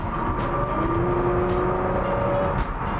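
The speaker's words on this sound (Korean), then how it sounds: "엔진에서 나는, 배기음에서 나는 그대로를 들려줘도 너무나 매력적인 소리를 내고 있습니다" A deep, steady engine drone with a throaty exhaust note from a Porsche Macan GTS sports SUV holds at a constant level, like a powerful vehicle cruising.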